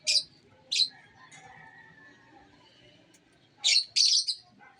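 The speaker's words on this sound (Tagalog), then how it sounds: "Yan po ang sisiw nila." Bird chicks in an aviary give short, high chirps in a few separate bursts, two near the start and two close together near the end, over a faint background.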